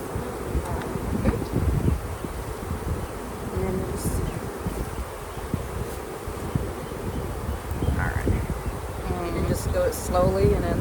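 Honey bees swarm close around a beekeeper installing package bees into hives, a dense continuous buzz with individual insects droning past the microphone, under intermittent wind and scattered movement noise.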